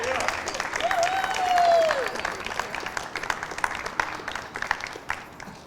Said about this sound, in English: One round of applause.